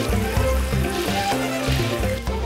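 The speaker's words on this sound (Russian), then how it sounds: "Курицу я жарю и хочу оставить целиком." A whole chicken fries in hot oil in a kazan while plov is being made, a steady close sizzle and crackle with soft stirring scrapes and no voices.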